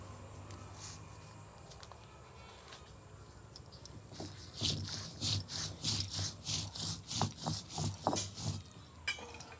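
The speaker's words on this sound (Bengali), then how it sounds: "এইভাবে করে আমি বেটে নেব দুই রকমের সরষা আর পোস্ত" Mustard seeds and poppy seeds are ground together on a flat stone with a large grinding stone, giving soft gritty scraping that builds into a steady rhythmic back-and-forth rubbing, close and moderately quiet.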